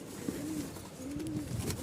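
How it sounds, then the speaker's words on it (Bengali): Pet pigeons coo softly nearby, two drawn-out throaty calls with short gaps between them, heard on their own over a quiet room hum. "4 জোড়া কবুতর।"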